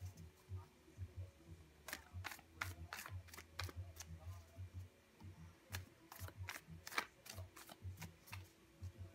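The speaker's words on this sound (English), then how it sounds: "Let's go on and finish shuffling these cards for you" Tarot cards being shuffled in soft, repeated bursts of crisp riffling and tapping, quiet and close, with gaps between the shuffles.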